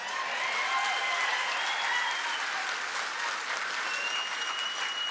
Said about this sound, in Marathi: आणि ऍडव्हान्स टाळी वाजवायची का आता?